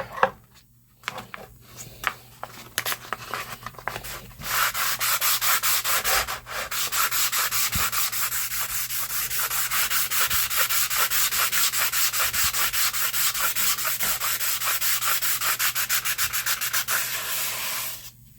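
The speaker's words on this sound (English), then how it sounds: "Now we trim up all the edges a little bit." The edges of a Naniwa Snow White 8K sharpening stone are trimmed with a steady, close, rapid gritty rasping that carries on for many seconds after a few scattered scrapes at the start.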